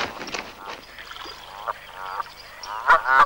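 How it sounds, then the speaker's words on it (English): Canada goose honking in a wildlife setting, a run of nasal, raspy calls with short gaps, growing louder and more rapid toward the end. "A Canada goose makes use of its brilliant white cheek patches in a series of display postures."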